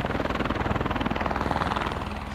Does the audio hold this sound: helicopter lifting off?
yes